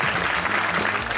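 A studio audience at a television show breaks into sustained applause, an even wash of many hands clapping together, moderately loud and unbroken.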